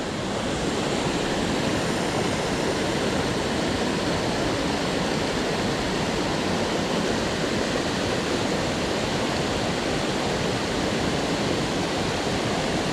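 Roaring river rushing past on a fly fishing trip, a dense, loud, unbroken wash of water noise that holds steady throughout.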